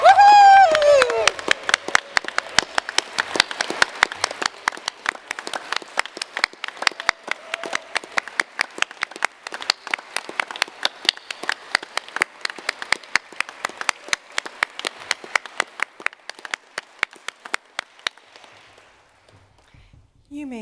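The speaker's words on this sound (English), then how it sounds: "let's give everyone a big round of applause as our graduates return to their seats" An audience at a Master of Energy Transition graduation ceremony applauds as a voice calls out at the start, then the clapping thins into scattered, distinct claps that gradually fade over about twenty seconds.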